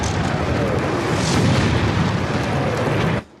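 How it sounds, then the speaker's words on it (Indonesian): British artillery shells explode in a loud, continuous roar of blasts and rumbling debris on a North African front, then the sound cuts off abruptly near the end. "tiba-tiba mendapat sambutan dari pihak Inggris berupa sebuah serangan artileri"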